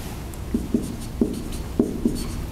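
Chalk or marker strokes on a board during an electrical engineering lecture, about five short scratchy taps spaced irregularly over a faint room hum, with no voice.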